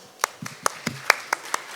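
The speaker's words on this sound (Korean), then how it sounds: "부사장님 박수로 맞이해 주십시오" Sparse, evenly spaced hand claps from a small audience at a Korean patent technology conference, welcoming a company vice president to the stage; the claps are distinct, moderately close and fairly quiet, with no talk over them.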